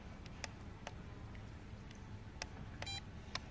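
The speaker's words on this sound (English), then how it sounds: "when you hit the double beep, it'll actually start recording video" The remote of a Force1 Specter drone gives faint, sharp beeps, scattered single ticks plus a quick double beep, over a quiet steady hiss.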